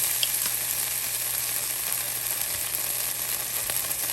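Garlic frying in a hot pan makes a steady, even sizzle close by, a dense continuous hiss with faint crackles and no talk over it.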